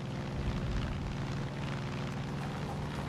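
An airplane roars steadily in Far Cry 5, a dense, continuous engine rumble that swells slightly near the start, with a low boom-like rush suggesting the crash.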